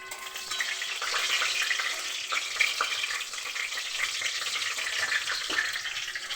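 A papaya and potato vegetable curry cooks in a pan, with a steady close sizzle and scraping stirring strokes continuing throughout.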